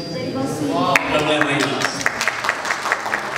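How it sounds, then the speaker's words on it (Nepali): A church audience at a 2016 tour gathering in Columbus, Ohio, applauding a sermon poem: a voice is heard at first, then loud, dense clapping breaks out and continues to the end. "धन्यवाद यहाँको तालीको लागि"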